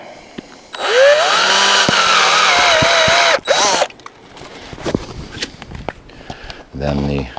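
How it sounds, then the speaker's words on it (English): A step drill bores through a maple sap tap cap with a loud, steady high-pitched whine lasting a few seconds, then stops, followed by scattered clicks, handling noise and a brief motor burst. "Drill a hole in the cap."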